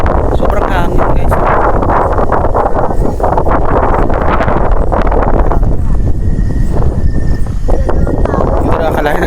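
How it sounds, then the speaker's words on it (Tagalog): Strong wind at a hilltop campsite at Lambingan Hills, Rizal, buffets the microphone in a constant low roar, with rustling and gusty noise throughout; a voice speaks briefly over it. "Sobrang hangin"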